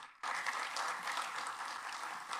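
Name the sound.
applause for a minister's speech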